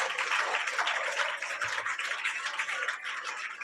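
Loud, sustained applause from a church congregation at a Friday prayer meeting, dense and steady throughout with no speech over it.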